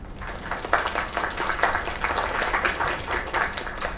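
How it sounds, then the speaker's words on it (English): A crowd applauds in the video game Lake, a dense, steady wash of many hands clapping at moderate volume for a few seconds, with no speech on top. "Another round of applause."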